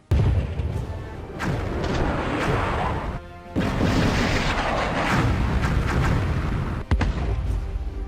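Loud, dense explosions and booming blasts from cutscenes in the Wii video game Battleship, rumbling almost continuously with a short dip in the middle and sharp crashing hits throughout.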